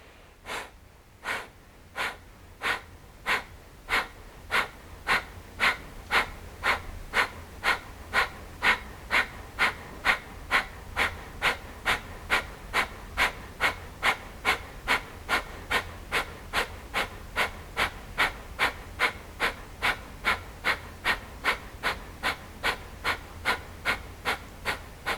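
Kapalbhati yoga breathing: sharp, forceful nasal exhalations in an even rapid rhythm, about forty puffs over 25 seconds, starting spaced and quickly settling into a steady pace, close and clear with no talk.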